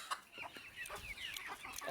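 Native country chickens cluck softly in a series of short, repeated calls, faint but clear against a quiet outdoor background.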